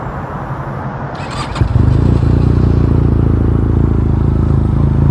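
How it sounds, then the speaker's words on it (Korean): An Italian 502C motorcycle with a tuned aftermarket muffler starts up and settles into a loud, close, gruff idle with a throbbing exhaust note, preceded by a quieter moment of clicks and clatter. "머플러가 튜닝이 되어 있어서 이런 소리가 나는데"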